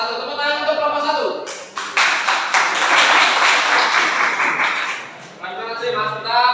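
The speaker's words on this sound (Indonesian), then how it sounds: "Tepuk tangan untuk kelompok 1." Classmates clap for group 1 in a lesson, a few seconds of lively hand clapping from a modest group, breaking in after a voice and fading back to speech at the end.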